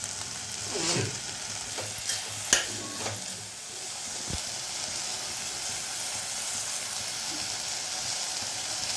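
Mushroom curry masala with ginger-garlic paste, turmeric and dry coconut powder frying in a pan over a low flame, a steady soft sizzle with a few scraping stir strokes early on.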